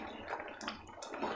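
Citron (narthangai) pachadi bubbling as it boils in a pot, a soft, steady simmer with gentle gurgles and small pops close by, no voices.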